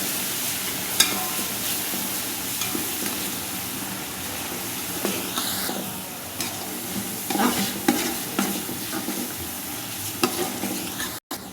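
Garlic paste sizzles steadily in hot oil while a spoon stirs and scrapes the pan, a continuous close frying hiss broken by short scraping strokes, with no talking.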